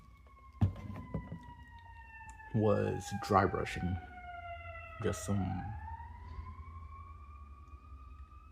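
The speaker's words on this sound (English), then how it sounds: "That was an ambulance" An ambulance siren passes outside, rising and falling in long steady wails that sweep across the whole stretch, fairly faint and distant behind a person talking about dry brushing a repainted Power and Devour T-Rex figure.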